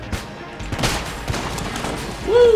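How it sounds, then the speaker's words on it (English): A mermaid cannon fires in Enter the Gungeon, a quick volley of close, crisp shots in rapid succession over game noise, ending with a rising tone. "Put them out with your mermaid cannon."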